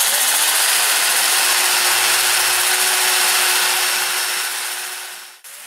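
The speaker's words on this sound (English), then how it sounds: "I'm going to look for little high spots, and I'll start by sanding on those." A plywood square bowl spinning on a wood lathe is sanded on its high spots, giving a steady, loud abrasive hiss over the motor's hum that fades toward the end.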